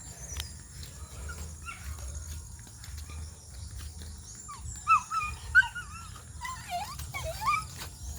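Several dogs whimper and whine in high, wavering yelps that grow more frequent toward the end, close by over a low background hum.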